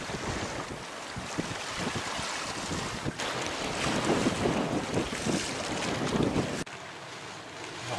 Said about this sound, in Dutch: Het is nou windkracht 5.